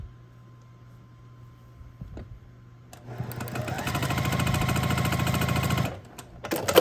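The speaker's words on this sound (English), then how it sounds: "We're going to match up the 2 triangles just like this and sew them together." A sewing machine stitches two fabric triangles together, starting after a few quiet seconds with soft handling clicks, then running in a fast, close, steady whir for about three seconds before stopping abruptly.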